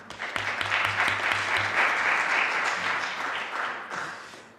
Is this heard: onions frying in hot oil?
no